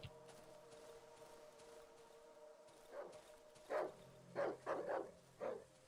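A dog in the video game Darkwood barks several times in quick succession, loud and fairly close, after a stretch of quiet ambient hum.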